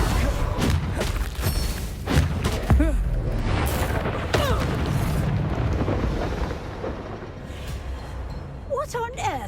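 Confringo blasting spells in the Hogwarts Legacy video game go off as repeated loud booming explosions in a haunted Hogsmeade fight, with game voices shouting spell names and chatter over the blasts.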